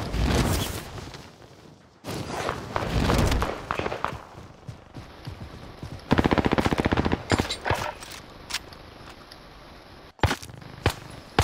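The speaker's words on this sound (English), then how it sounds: "They're shooting." Bursts of automatic and single gunfire ring out in the video game Call of Duty: Modern Warfare, loud and rapid at first, then in broken, repeated volleys with sharp individual shots toward the end.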